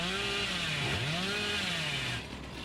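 Billy's chainsaw in a video game revs loudly, its whining pitch sweeping up and down in wavering bursts before cutting off abruptly near the end.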